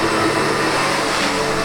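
A SEBO Automatic X7 Boost ePower upright vacuum cleaner drones steadily with a loud, even motor whine and airflow rush, close and continuous with no talking.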